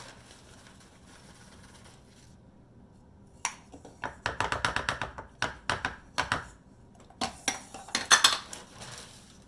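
Icing sugar whisked into a peanut butter mixture for a swirl in chocolate banana bread, a quiet pause followed by rapid bursts of metal whisk clattering against a bowl, close and uneven, with no speech.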